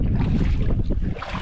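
Boat engine running out on the sea on a fishing trip, a continuous low rumbling drone mixed with wind buffeting the microphone and water noise, close and fairly loud.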